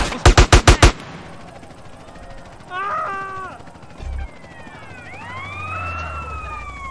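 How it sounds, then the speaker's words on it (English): Gunfire in GTA San Andreas: a rapid burst of five loud shots at the start, followed by police sirens wailing and sweeping in pitch, with game engine rumble underneath. "Who the hell is shooting at me?"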